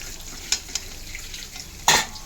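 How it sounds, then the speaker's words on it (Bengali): Pieces of papaya fry in a pan with a soft background sizzle, broken by a few short scraping stirs and one louder clatter near the end; no voices. "পেঁপেটা সুন্দর ভাজা হয়েছে"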